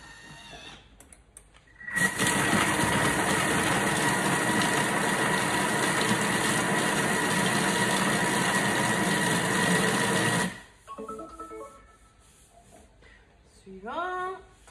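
A kitchen food processor runs at speed 5, whirring loud and steady for about eight seconds as it blends chicken and potatoes, then stops sharply. Quiet handling noises and a brief voice follow.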